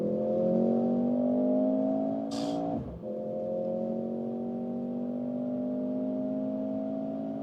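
A Mercedes GLC 43 AMG in sport mode holds a steady engine drone, dips briefly with a gearshift thump, then pulls again with a rising, sustained note, fairly close and even in level.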